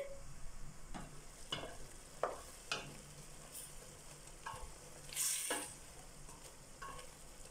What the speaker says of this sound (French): Maintenant, on mélange la poule.